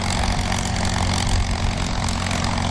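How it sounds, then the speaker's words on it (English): Commonwealth CA-17 and CA-18 propeller aircraft at the Wings Over Illawarra airshow, their piston engines producing a steady, dense, loud drone that holds without a break. "CA-17 and the CA-18, different models of Commonwealth aircraft."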